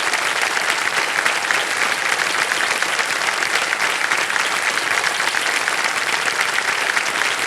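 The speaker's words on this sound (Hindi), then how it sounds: "इनके नाम तालियां बज जाए।" A studio audience on the Indian quiz show Kaun Banega Crorepati claps for a contestant's prize win, a dense, loud, continuous roar of many hands that stays even throughout with no voices over it.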